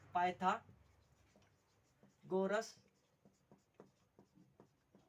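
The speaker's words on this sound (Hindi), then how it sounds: "तो यहाँ पे लिखते हैं" Pen scratching on paper while working a trigonometry problem with the Pythagorean theorem in a classroom lesson; a run of short, light strokes follows two bursts of speech.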